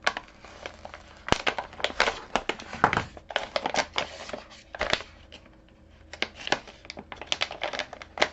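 A resealable package is cut open, giving a series of close, sharp crinkling snips and plastic rustles in irregular bursts with brief pauses, fairly quiet overall and with no voices.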